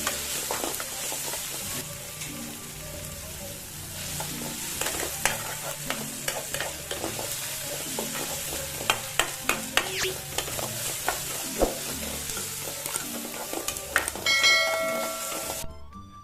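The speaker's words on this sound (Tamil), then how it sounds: "அது கூட நறுக்கி வச்சுருக்க தக்காளி போட்டு நல்லா சாஃப்டாகிற அளவுக்கு நல்லா வதக்கிக்கோங்க" Tomato and chopped vegetables sauté in hot oil for radish sambar, giving a steady sizzle under repeated scraping and clinking of a spoon against the pan. The stirring grows busier toward the end.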